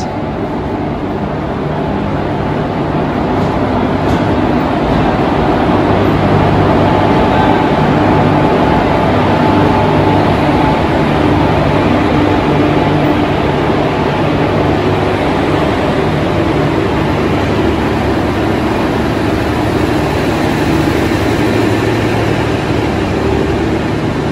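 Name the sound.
13149 Up Kanchankanya Express train entering the station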